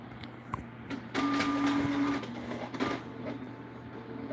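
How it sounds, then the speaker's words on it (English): A printer whirs and clunks nearby, with a steady mechanical hum and a short tonal buzz as the paper feeds. "You hate the sound of my printer right now."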